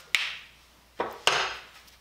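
A dead blow hammer strikes the steel rim of a wheelbarrow three times in an uneven rhythm. Each blow is sharp, close and solid, with a short ringing decay and no talk.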